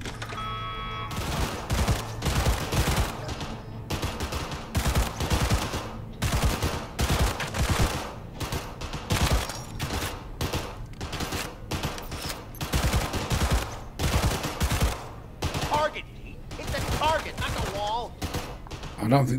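Rapid bursts of smart-weapon gunfire in the video game Cyberpunk 2077, loud and dense, repeated volleys throughout with some talk mixed in.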